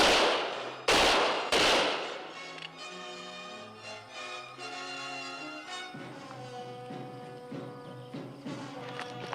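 Soldiers' muskets fire in a TV western, two sharp close volleys up front and then a hard cut into a sustained orchestral score.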